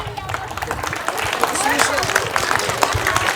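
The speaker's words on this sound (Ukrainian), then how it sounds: "Ваші оплески! Гучно!" An outdoor audience at a folk festivity in Shevchenko Grove, Lviv's open-air museum of folk architecture, claps for a singing duet, a continuous patter of hands mixed with voices.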